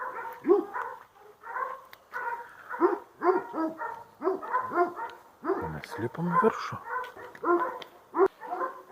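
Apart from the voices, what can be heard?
dogs barking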